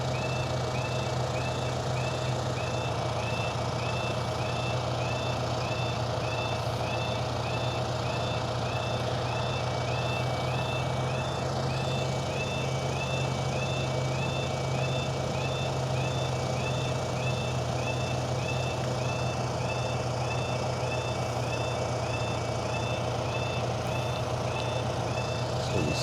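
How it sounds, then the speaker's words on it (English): Steady road traffic rumbles beside a canal towpath in Staffordshire, with trucks droning and a reversing beep pulsing repeatedly in the background throughout, with no talking. "so much traffic."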